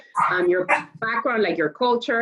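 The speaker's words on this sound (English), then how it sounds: "you might hear my dogs barking in the background" Pet dogs bark repeatedly in a home setting, sharp yaps and barks layered over and between a person's speech, close and fairly loud.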